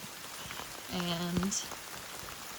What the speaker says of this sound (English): it started raining and hailing. Not big hail, pretty small, just probably a few millimeters